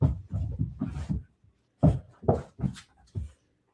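A dog gives a run of short, close barks and yelps in quick clusters, with a brief pause before another burst of sharp barks.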